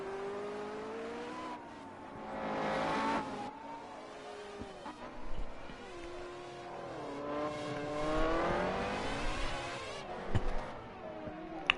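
Formula Guf 100 racing cars lap Cadwell Park circuit, engines revving hard and shifting pitch as they pass, a steady mid-distance roar rising and falling with a few sharp clicks.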